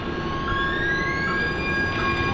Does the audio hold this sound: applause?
no